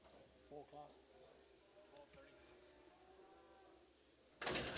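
White face heifers moo at a livestock auction market in Oklahoma, a couple of low moos rising near the start over a quiet background, followed by a loud sudden clatter near the end.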